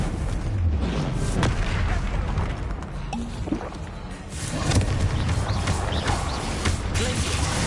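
A Confringo blasting curse from Hogwarts Legacy erupts in a dense, rumbling burst of explosive game noise, sustained and loud throughout amid overlapping spell-combat effects.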